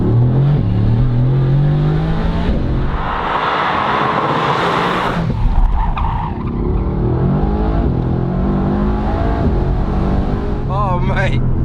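A Mercedes-AMG GT R revving hard from inside the cabin, the engine's exhaust climbing and rising loudly and continuously as the throttle is floored, with someone talking over it.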